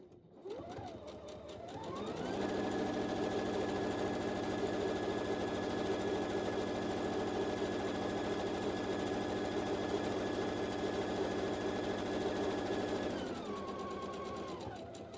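A sewing machine stitches the final seam of a fabric tote bag, spinning up to a steady, fast, close whirring hum that holds for about ten seconds before slowing and stopping.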